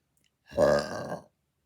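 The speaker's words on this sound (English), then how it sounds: "I have to burp." A single short, deep burp, close and fairly loud, lasting under a second against silence.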